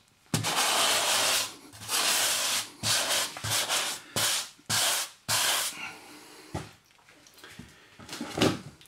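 Grout float scraping excess grout off floor tiles, giving repeated broad rasping strokes in bursts with short pauses between them, close and fairly loud with no talking.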